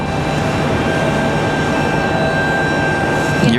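Airliner departing Raleigh Durham airport on a windy day, a steady, moderately loud jet roar with a thin high whine running throughout, no voices.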